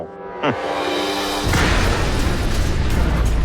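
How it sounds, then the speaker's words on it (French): A van explodes in a massive blast with a deep, roaring boom that keeps rumbling loudly, preceded by a brief mechanical whine and hum. "L'explosion a été incroyablement plus puissante que prévu."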